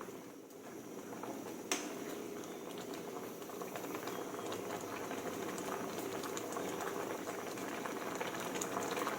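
Bamboo shoot curry with pumpkin and yanang leaf stock bubbling steadily in a pot, a dense continuous boil with occasional sharp pops and one brief click, no talking.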